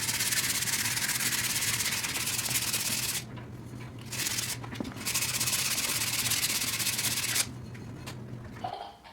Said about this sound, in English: follow with sanding all surface areas and try to smooth as much as desired